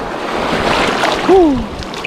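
Blustery wind buffeting the microphone with a wash of surf underneath on a windy beach after a tropical storm, and a brief voice-like whoop rising over the roar partway through.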